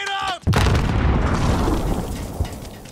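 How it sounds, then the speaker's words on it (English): A grenade goes off in Modern Warfare with a sudden heavy boom after a short voiced callout, followed by a long rumbling roar and debris that fills the rest of the moment. "Grenade out!"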